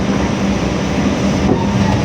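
A Probowanggi passenger train standing or rolling at Kalisetel station gives a dense continuous rumble with a low hum throughout, loud and close, with no voices.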